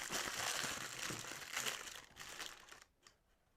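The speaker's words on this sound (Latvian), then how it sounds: "Iepakojumi ir pilnīgi jauni, tāpēc arī rūpīgi viņus atvēršu vaļā." Close, crinkly rustling of plastic packaging being opened on new Bosch brushless power tools, fairly steady for a few seconds before fading out.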